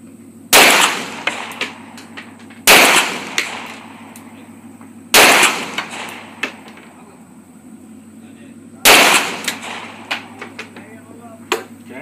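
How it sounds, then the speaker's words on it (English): Pistol shots at a shooting range, four loud sharp cracks spaced about two to three seconds apart, each followed by a brief echo and small clinks of spent casings, over a steady low hum. "I'm going to put the magazine in, drop the slide, and shoot."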